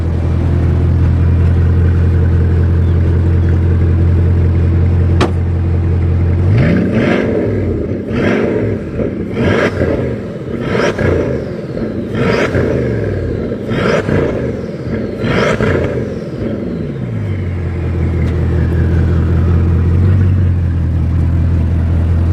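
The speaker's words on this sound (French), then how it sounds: "laisse passer derrière la voiture, Charles, pour leur faire écouter le son de l'échappement." A car's exhaust, heard from close behind the vehicle, roars through about eight sharp, loud rev blips in a row over a steady idling rumble, then drops back to idle.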